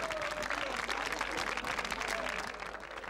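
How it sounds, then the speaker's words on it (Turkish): A studio audience bursts into sustained, dense applause, loud and steady for about three seconds before easing slightly at the end. "Ya ben bu hareketi alkışlarım."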